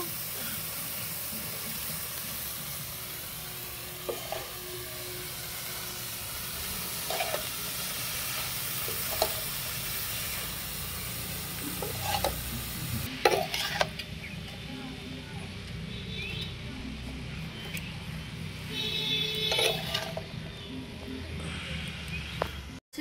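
Cabbage frying in a pan with a steady hiss of sizzling oil, broken by scattered scrapes and clicks as it is stirred; the sizzle stays close and fairly loud throughout.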